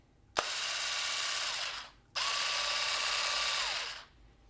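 Skil cordless pruner pole saw motor running in two close, steady bursts, each spinning up sharply, holding an even whine, then winding down, with a short pause between.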